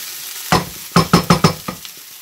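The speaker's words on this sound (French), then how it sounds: "Mes oignons sont en train de colorer." Onions browning in a hot pan for an Asian recipe, stirred in a series of five or six short, distinct scraping and sizzling bursts with brief pauses between them, close and fairly loud, no talking.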